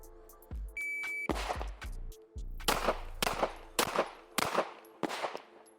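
Gunshots ring out at a shooting range, a rapid series of sharp, loud cracks in quick uneven bursts, with an electronic beep near the start.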